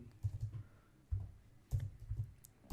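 Code being typed on a computer keyboard: quiet, close clusters of key clicks in short bursts separated by brief pauses.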